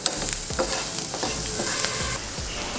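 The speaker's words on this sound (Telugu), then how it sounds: "పసుపు వేసుకొని ఈ ఆనియన్స్ అనేవి కొంచెం మెత్తబడికే వరకు ఫ్రై చేసుకుందాము" Onions with turmeric fry in a pan, a loud continuous sizzle and crackle close by, with repeated scraping strokes of a spoon stirring through them and no voices.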